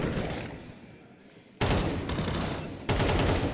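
Loud, dense gunfire bursts in the Counter-Strike video game during a professional esports match, a sustained volley that fades, then cuts back in abruptly twice at full strength.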